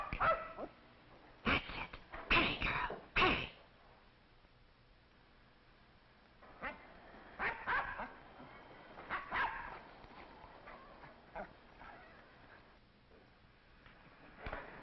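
A dog barks at a cat outdoors on a Sunday morning in a 1961 film scene, giving a few loud, sharp barks in a quick cluster, then scattered softer yips and whimpers over a quiet background.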